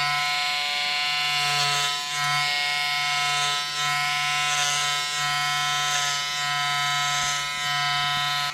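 Electric hair clippers with a longer guard buzz steadily and loudly, up close, while trimming a toddler's faux hawk, the motor pitch dipping slightly every second or so as the blades pass through the hair.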